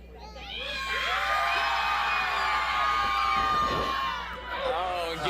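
A wrestling crowd at a Slam U Superhero Saturday show roars and chants at Frankie Gamboa, a dense, sustained wall of cheering and shouting voices with a few high whoops, loud throughout and barely dipping near the end.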